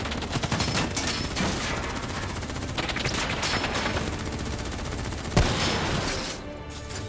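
Sustained automatic gunfire in the video game Call of Duty Black Ops 3, a dense, continuous crackle of shots with one louder impact near the end, loud throughout.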